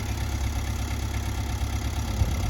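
An older John Deere 24A skid steer engine idles steadily for the whole stretch, a low, even rumble with no voices over it.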